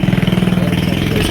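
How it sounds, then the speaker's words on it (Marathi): A slow-moving tractor engine runs close by, loud and steady, with a rapid rhythmic chugging pulse throughout. "किती पळवली तरी लय हळू पळाले ट्रॅक्टर"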